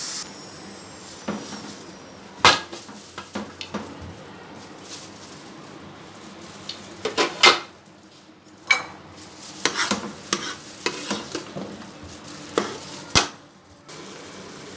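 A pressure cooker holding cooked minced meat is opened and handled, giving scattered sharp metallic clanks and knocks over a steady low background hiss, with no talking.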